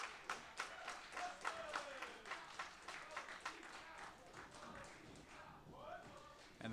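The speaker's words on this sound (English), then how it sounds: "And the crowd certainly appreciative." Wrestling crowd at a Monster Factory pro wrestling show applauding with scattered, rhythmic claps at moderate distance, heard beneath a commentator talking.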